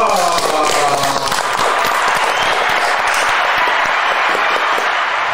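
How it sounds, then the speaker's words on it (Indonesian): An audience at a sales awards celebration breaks into sustained, full applause that holds steady for several seconds, with a faint voice briefly underneath at the start. "tepuk tangan dulu dong"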